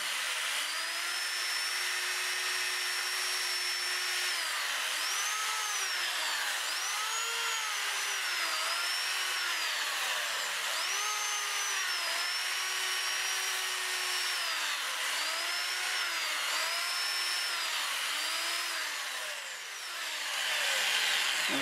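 Black walnut is sanded under power on a spinning wood lathe, giving a steady whirring hum with a shifting high whine that rises and dips as the abrasive presses against the turning wood.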